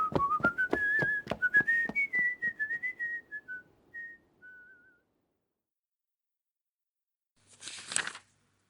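A man whistles a short wavering tune, close and clear, over a series of sharp rhythmic taps that fade out, followed after a silence by a brief rustling burst.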